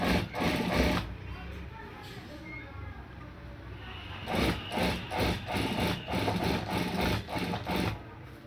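A sewing machine stitches a front placket on a garment in bursts, a loud rapid motor whirr running for about a second, pausing, then resuming in a series of short rhythmic runs up close.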